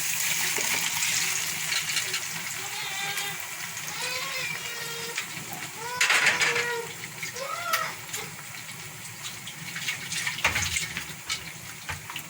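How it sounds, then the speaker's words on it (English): Water running and splashing as a blender is rinsed in a kitchen while cooking egusi ball soup, an uneven flow with gurgles and sloshes, swelling louder midway and continuing in bursts. "Just rinsing the blender."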